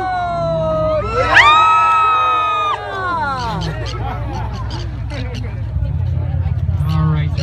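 Passengers on a whale-watching boat off Newport Beach yell and cheer together. One loud, drawn-out shout is followed by scattered whoops and babble, all over the low, steady rumble of the boat's engine.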